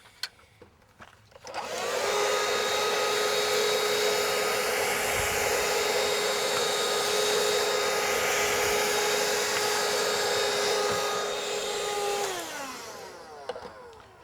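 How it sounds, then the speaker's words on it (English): A vacuum cleaner sucks dirt out of a window track, starting up, running as a loud steady whine for about ten seconds, then winding down with faint scraping, and no one speaking. "And then I will take my vacuum and vacuum the dirt up"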